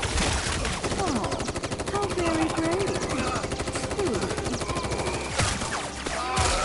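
Rapid automatic gunfire from a gun in Final Fantasy VII Rebirth, dense repeated shots running almost continuously under game voices.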